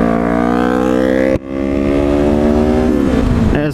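Yamaha R3 motorcycle revving hard with a high, buzzing whine, briefly cutting out during a gear change, then rising again and fading as it passes close by.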